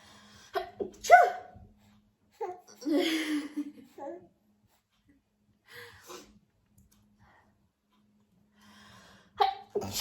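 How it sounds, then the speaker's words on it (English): A single sharp sneeze close by, with a quick intake of breath before it and a few quiet breaths and murmurs around it. "I'm going to sneeze."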